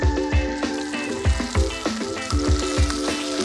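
Steak sizzles steadily in a hot frying pan over indirect heat, a continuous close hiss with regular low thumps and tonal hum underneath.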